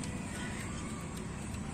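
An auto-rickshaw's BS3 engine, under repair and unable to reach full revs, holds a steady, loud, rough drone for a brief moment.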